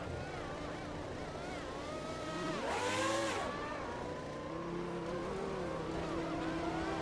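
A race car in a Formula racing video game drones at high revs, its engine pitch sweeping up and down through a corner near the middle, steady and moderately loud throughout.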